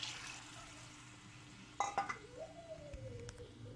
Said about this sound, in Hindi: तकरीबन 3 कप पानी डालूँगी।